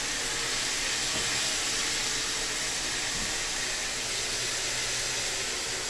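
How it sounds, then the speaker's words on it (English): Chicken wings fry in hot oil with steady, dense sizzling, a constant bright hiss with faint crackle, close by and unbroken throughout. "Y'all hear that? We're sizzling."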